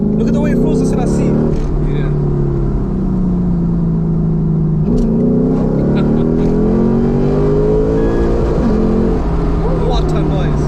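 A 2008 Lexus IS F accelerating hard in second gear, heard from inside the cabin as a loud, deep engine roar with rising pitch sweeps and a shift partway through, while people talk over it.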